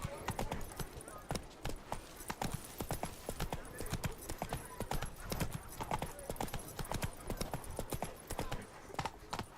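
Roach, the horse in The Witcher 3, canters with a steady, fast clip-clop of hoofbeats that runs the whole time, close and loud, over faint game ambience.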